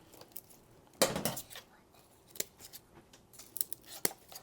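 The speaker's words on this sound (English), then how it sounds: "So all of these kind of rotted looking roots, I'm going to cut away." Scissors snip away rotted roots from a seven-year-old orchid during repotting, one loud crisp cut followed by several lighter, scattered snips close by, with no talking.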